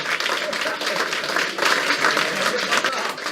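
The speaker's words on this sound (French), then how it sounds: "Voilà, ils sont là-bas, je vous applaudis." An audience at a town hall staff gathering bursts into sustained applause, dense clapping from many hands filling the room steadily for several seconds without a break.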